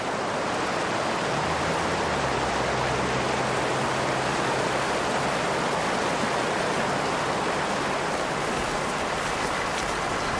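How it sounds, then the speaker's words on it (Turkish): Steady rushing water fills the scene, a dense unbroken flow of a snowmelt stream running into a valley, without pauses or voices. "Eriyen karın suyu yavaşça vadiye akıyor"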